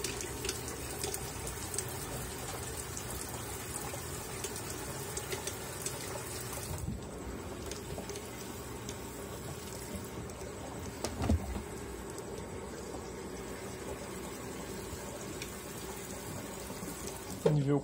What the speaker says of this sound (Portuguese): Assim que a lavadora estiver cheia, eu volto.